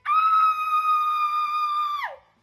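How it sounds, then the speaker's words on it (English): A single sustained high-pitched scream holds steady for about two seconds, then drops sharply in pitch and cuts off, loud and alone against silence. "I forgot to scream"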